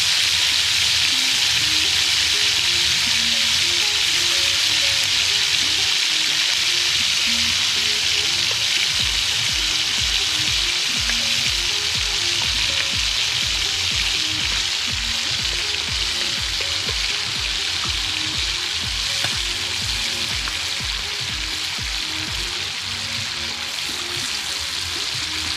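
Shrimp, heads cut off, fry in a pan at an outdoor riverside cooking spot, giving a steady, loud, close sizzle that holds evenly for the whole stretch with no talking over it.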